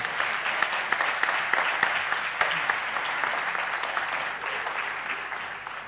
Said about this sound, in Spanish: Venga, un aplauso a Elena, que está ahí.